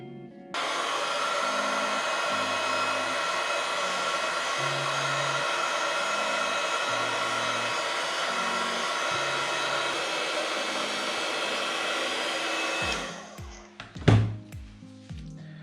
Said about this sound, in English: use the heat gun, shrink it a little bit